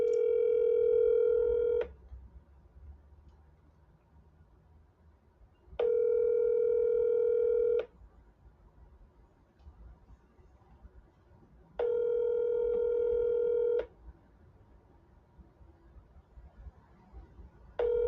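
An outgoing cell phone call plays a ringback tone: a steady electronic tone about two seconds long, repeating three times with roughly four-second gaps of near silence, with a further tone starting at the end.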